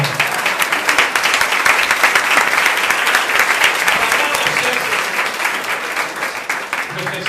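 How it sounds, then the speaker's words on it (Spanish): Sustained audience applause at a talk on the Bible, many hands clapping in a steady, dense roar that holds for several seconds before easing slightly. "Esa palabra merece ese aplauso"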